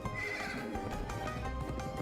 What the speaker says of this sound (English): if this horse can fly, why do I have to jump at all?